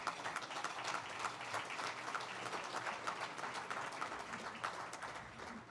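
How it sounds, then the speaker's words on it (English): A banquet hall audience at a spring civic dinner gives a sustained round of applause, dense and even, with scattered claps standing out throughout. "Let's give them a big round of applause."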